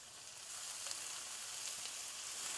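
Lamb curry frying in a pan gives a steady, even sizzle throughout, with faint scrapes of occasional stirring and no voices.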